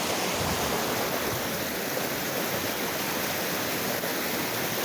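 A clear stream flows through the Black Forest in south-west Germany, a steady broadband rushing and splashing of water that stays even and fairly soft with no voices.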